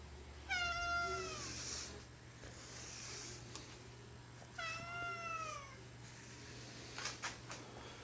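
A pet cat meows twice in drawn-out, complaining cries, close and fairly clear over a low steady hum, followed by faint rustling and small knocks.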